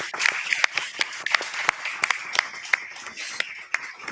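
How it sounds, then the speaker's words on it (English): A small audience at a panel discussion claps steadily, the applause close and lively with individual hand claps standing out. "A round of applause for these three amazing women."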